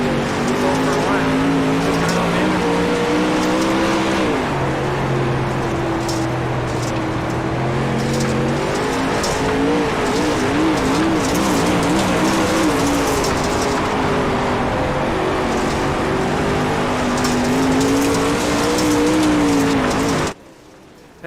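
Race cars roar around the Volusia dirt track during an All-Star Racing Series event, engines rising and falling steadily as drivers work the throttle, a constant loud drone with tire noise, cutting off near the end.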